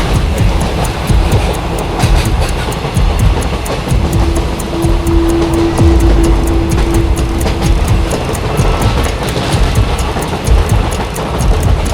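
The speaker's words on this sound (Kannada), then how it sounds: "ಇವತ್ತು ನಾವು ಟ್ರಾವೆಲ್ ಮಾಡ್ತಿರೋದು ಮೋಸ್ಟ್ ಡೇಂಜರಸ್ ಟ್ರೈನಲ್ಲಿ" A passenger train bound for Rameswaram crosses the Pamban Bridge with a steady, loud rumble and rhythmic clatter of wheels on the rails, a horn sounding briefly in the middle.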